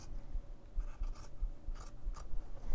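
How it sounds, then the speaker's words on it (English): Scissors snip through fabric backed with interfacing, giving several short crisp cuts spaced irregularly across a couple of seconds, close and fairly quiet against a low background hum. "then you can just go ahead with your scissors and cut out around the shape flex"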